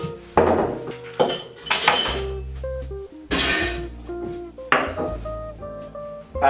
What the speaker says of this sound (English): So you get your shaker and put some ice.